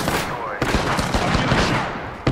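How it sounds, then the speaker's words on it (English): Rapid automatic gunfire in the video game Apex Legends, loud bursts of shots crackling close by in quick succession, with a voice speaking over the shooting. "I'm getting shot!"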